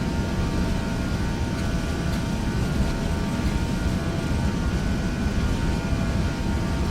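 Airliner engines spooled to takeoff thrust in a flight simulator, a steady loud broadband roar that holds constant throughout without any talking over it.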